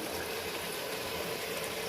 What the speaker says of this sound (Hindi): तो इसमें जी अब मैं शामिल करूँगी थोड़ा सा पानी